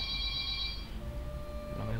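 A home telephone rings in a game, a steady electronic tone holding for about a second before shifting pitch, fairly faint over low background rumble.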